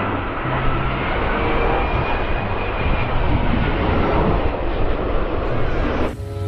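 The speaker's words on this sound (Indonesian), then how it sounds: "Ada pesawat 737. Ini pesawat penumpang." A Boeing 737 passenger airplane roars steadily with a loud, broad engine rush that holds for several seconds before cutting off abruptly at the end.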